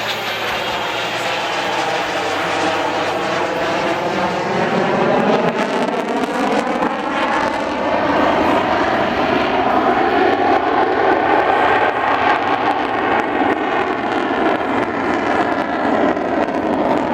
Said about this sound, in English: he will apply full afterburner and accelerate the aircraft into a near vertical climb.